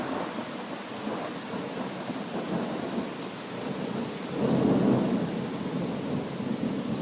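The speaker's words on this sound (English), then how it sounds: "the crack of lightning and the sound of thunder" Steady rain pours through a night thunderstorm in St Catherine's, with a deep roll of thunder swelling midway over the constant hiss of falling water, no voices.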